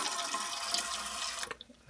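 Water pours steadily into a pot from a tap for seafood boiling, a close rushing stream that stops abruptly near the end, leaving a few faint drips.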